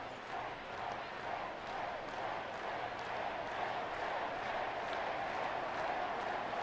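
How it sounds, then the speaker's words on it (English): Baseball stadium crowd in MLB 11: The Show cheering: a continuous, moderately distant wash of crowd noise and cheers that swells slightly, with faint voices mixed in. "It always sounds like they're cheering for a strikeout"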